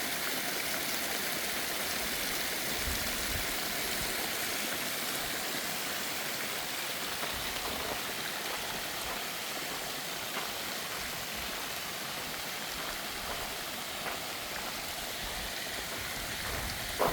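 A working fountain in the maze groves of the Versailles gardens gives off a steady, dense rush of flowing and splashing water, continuous and moderately loud with no voices.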